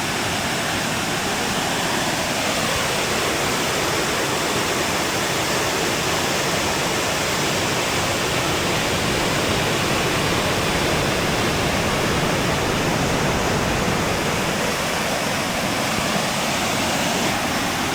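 Loud, continuous rush of river water and spray during a jetboat ride in New Zealand, a steady broadband roar filling the whole stretch with no talk over it.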